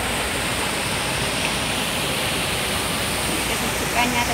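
Water flowing over rocks along a street stream in Hong Kong, a steady broadband rushing wash that stays loud and unchanging from start to finish, with no other sounds standing out.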